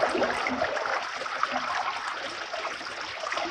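A low creek flows steadily, a soft continuous trickle and babble of shallow water, faint and even, heard from nearby with no voices.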